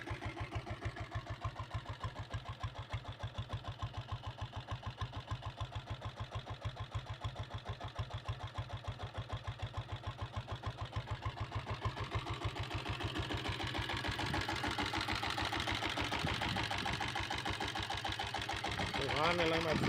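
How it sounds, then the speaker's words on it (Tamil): A diesel Royal Enfield Bullet motorcycle idles nearby with a steady, rapid thumping silencer beat throughout, growing slightly louder and rougher near the end as a voice talks over it. "சைலன்சர் பீட் அப்படியே உங்களுக்கு காமிக்கிறேன் பாருங்கள்."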